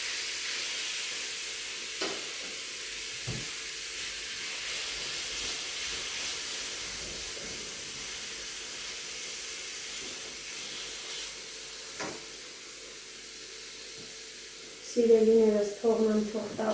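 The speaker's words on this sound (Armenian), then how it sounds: "Գցնեմ թող տապակվի, արդեն տաքացել է թավան։" Food fries in an already heated pan, giving a faint, steady sizzle and hiss with a few soft knocks, then a louder clatter and a brief voice near the end.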